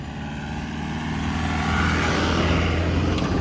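Cars driven fast along a sandy beach, a steady engine roar that swells slightly louder midway as a vehicle passes close, no talk.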